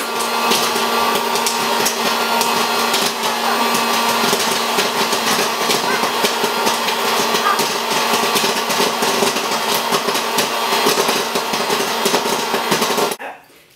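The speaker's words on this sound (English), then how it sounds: "now let's put it in our popcorn maker" A popcorn maker runs with a steady, loud whirring hum and a faint scattering of ticks from popping kernels, continuing unbroken until it cuts off at the end.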